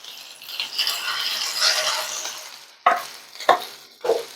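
Semolina and potato snacks go into hot white oil, giving a swelling sizzle that fades, followed by three sharp knocks or rattles of the pan.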